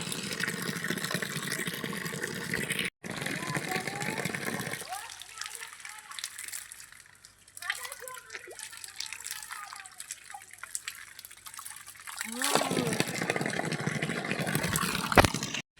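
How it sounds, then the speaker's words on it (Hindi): Water from a rooftop tank, cold as if from a fridge, pours and splashes near the mic in a steady stream, with quieter sloshing and drips in the middle; speech is heard alongside it. "अब मैं पानी पीऊँगी"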